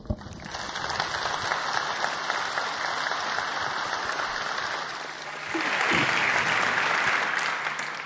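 Conference audience applauding a speaker taking the stage at the 35C3 hacker congress, a dense, steady roar of many hands clapping for about eight seconds, swelling louder near the end before tapering.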